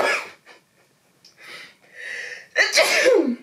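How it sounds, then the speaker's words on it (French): A single loud sneeze comes after a few sharp breathy inhales, close and clear in an otherwise quiet room. "je vais éternuer du coup."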